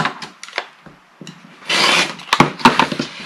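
Sewn quilt fabric squares are cut in half along a drawn center line, giving soft close rustles and clicks followed by a brief louder swishing cut of fabric, with no voices.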